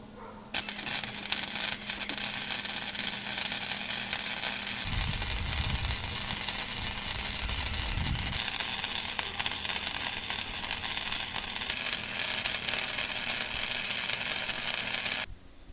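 Welding on a metal vertical wind turbine frame built from scrap, a dense, continuous crackling sizzle that holds steady at close range for about fifteen seconds, with a low rumble partway through.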